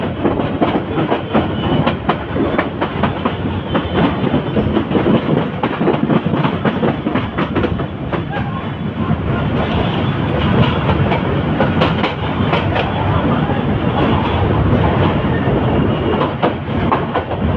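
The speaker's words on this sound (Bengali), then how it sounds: "ট্রেনটি কোরিল বিশ্ব রোড অতিক্রম করে ক্যান্টনমেন্ট রেল স্টেশনে প্রবেশ করছে।" A train runs toward Cantonment railway station in Dhaka, heard from on board as a loud, continuous rumble with rhythmic clickety-clack of wheels over rail joints for the whole stretch.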